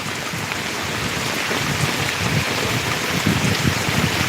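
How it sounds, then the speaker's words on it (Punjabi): Dense, heavy rain pours down steadily, a loud unbroken hiss with no voices. "ਬਹੁਤ ਬਹੁਤ ਜ਼ਿਆਦਾ ਮੀਂਹ ਪੈ ਰਿਹਾ"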